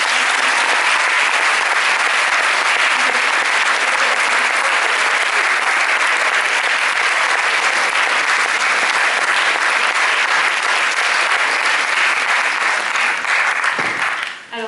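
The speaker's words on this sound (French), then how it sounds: "Je pense que vous pouvez encore les applaudir un petit peu." An audience at a film preview screening applauds in a loud, sustained burst of many hands clapping that continues evenly before trailing off abruptly at the very end.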